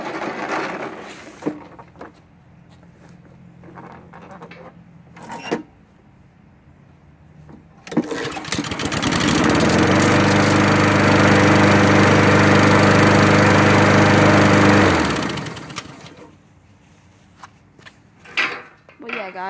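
Husqvarna lawn mower engine starting up, its loud steady drone running for several seconds before cutting out, with clunks and handling noises around it and someone talking.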